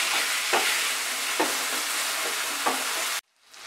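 A fish head fries in a hot pan with a loud, steady sizzle and periodic stirring scrapes, before the sound cuts off sharply near the end.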